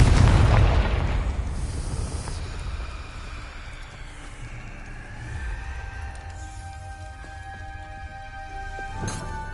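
A Confringo fire spell bursts in Hogwarts Legacy inside Salazar Slytherin's maze, a loud, close explosion whose boom fades into a long rumbling tail with magical ringing tones.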